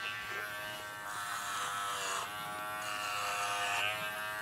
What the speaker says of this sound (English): Now we're gonna switch over to the Joy Z Hornet, which is a 5-in-1 clipper